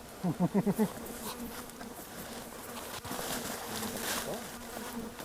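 Mosquitoes buzz persistently and close, a thin whining hum over outdoor ambience, after a few quick knocks at the start and faint voices.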